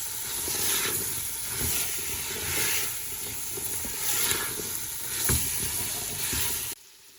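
Spiced potatoes for aloo bhujiya are stirred in a pan over steady, close frying sizzle, with soft spoon scrapes and shuffles recurring every second or so throughout, and no talking.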